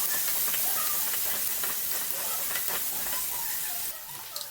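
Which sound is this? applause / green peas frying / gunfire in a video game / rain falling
green peas frying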